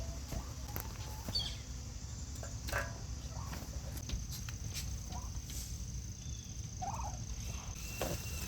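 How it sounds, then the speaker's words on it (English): Turkeys gobble in short bursts from a distance in a garden, faint against a steady outdoor background, with a person talking quietly at times. "Okay, turkeys, I hear y'all."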